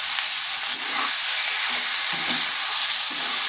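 Spinach, eggplant and potato hit a hot pan with a dried red chilli, giving a steady loud sizzle and hiss with a few soft stirring knocks underneath.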